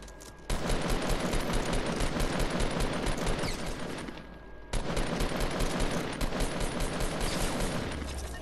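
Sustained automatic gunfire from the video game Fortnite Battle Royale, dense rapid bursts filling the mix, pausing briefly near the middle before resuming just as loud to the end.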